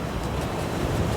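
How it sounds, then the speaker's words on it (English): Huge ocean waves break along Portugal's west coast at Nazaré, a loud, dense roar of surf mixed with wind buffeting, heard alone and close. "The huge waves on this seaboard"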